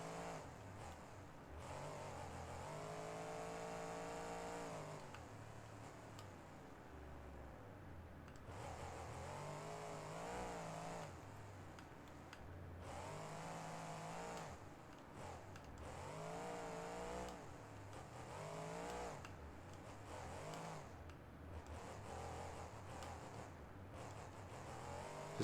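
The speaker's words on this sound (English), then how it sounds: "Now we get to drift around in the mud a little bit." A 2015 truck's engine revs and surges steadily while it drifts through mud in the BeamNG.drive driving game, a continuous mid-pitched drone rising and falling in pitch with throttle, loud and close with no talking.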